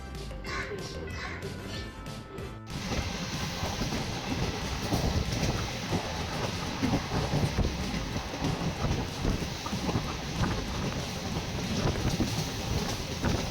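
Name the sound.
rain starting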